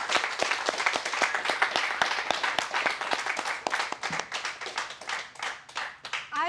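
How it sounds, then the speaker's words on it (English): An audience at an education festival claps for students, crisp, closely miked applause with distinct individual claps in a steady run that rises and falls slightly over six seconds. "So can we get a round of applause for our students?"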